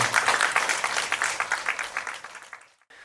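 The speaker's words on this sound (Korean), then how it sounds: "큰 박수 보내주시기 바랍니다." Applause from an audience at a Buddhist dharma talk, a steady patter of many hands clapping at moderate loudness, tapering off and fading out near the end.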